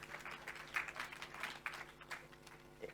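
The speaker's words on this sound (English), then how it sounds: "He deserves a bit of a clap for that one." A small group claps briefly, light scattered applause that sounds a little distant and lasts only a few seconds.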